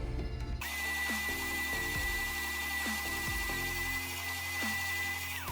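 An oscillating spindle sander with a 3/4-inch spindle grinds inside the handle of a wooden push stick, a loud continuous whirring drone with repeated dips in pitch as the wood is pressed against it.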